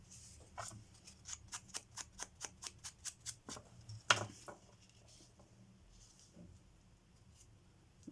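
Scissors snip paper for a birthday card made with tracing paper, a quick even run of about a dozen small close clicks, then a louder rustle or thump and quiet handling.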